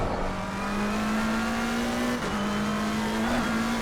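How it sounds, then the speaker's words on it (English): A McLaren 720S EVO race car in the Assetto Corsa Competizione racing game holds a steady high engine whine near the limiter, dipping briefly with gear changes and climbing again, loud and continuous with no talk. "Probably over revving the car."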